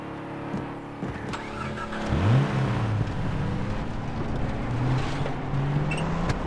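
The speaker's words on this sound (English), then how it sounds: "We'll take the vehicle." A vehicle in Far Cry 3 drives along with a steady, rumbling engine that rises in pitch as it accelerates, close and continuous, with rattling and bumps over rough ground.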